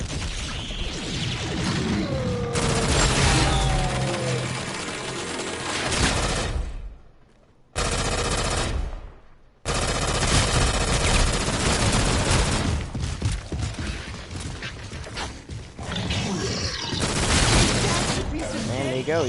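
Video game gunfire aimed at an enemy's head, with dense bursts of shots under continuous game noise and voices, broken by a brief near-silent gap, then rapid firing resumes to the end.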